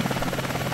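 Steady rotor thump and engine whine from a Hind helicopter in a flight simulator game, a short, even, close drone without pauses.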